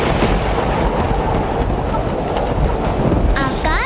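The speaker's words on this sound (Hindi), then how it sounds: "आंधी और वर्षा होने लगी।" A loud storm with howling wind and heavy rain makes a dense, roaring wash of noise that barely changes from start to end, and a short creaking or chirping sound enters near the close.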